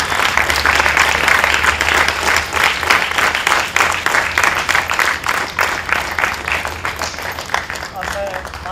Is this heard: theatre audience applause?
yes